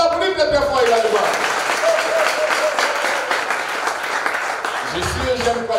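Audience at a church broadcast studio applauding the camera crew, a steady wash of clapping throughout, with a voice speaking over it at the start and end.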